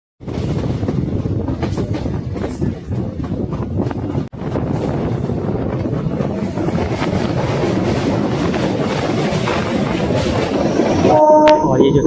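A 75272 DEMU passenger train runs between Nawada and Patna in Bihar, with a steady close rumble of wheels and carriage under wind buffeting, and a brief tonal sound near the end.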